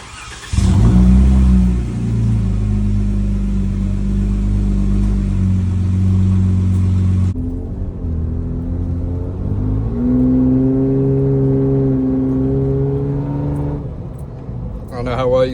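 A 2018 Jeep Wrangler JK's 3.6L V6 with the muffler removed roars loud and close, revving hard and holding high before dropping to a rough, throaty idle with small blips; a voice speaks briefly.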